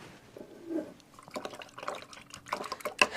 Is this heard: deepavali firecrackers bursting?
no